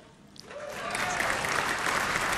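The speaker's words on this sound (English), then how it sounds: "Got a little more enthusiastic applause from the jaded crowd." Crowd at the BlackBerry 10 launch event breaks into applause that swells from quiet to a steady, full burst of clapping.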